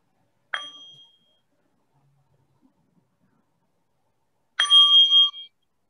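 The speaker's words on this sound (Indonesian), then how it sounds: "saya undang bell master kita untuk mengundang satu suara genta" A mindfulness bell is struck by the bell master, two bright metallic strikes a few seconds apart with quiet between them, the second fuller and ringing longer, with no voices.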